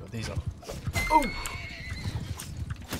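A horse in the video game Mount & Blade II Bannerlord whinnies once, loud and near, with hoof clip-clop and someone talking over the scene.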